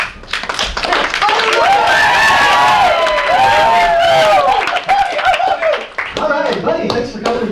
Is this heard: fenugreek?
no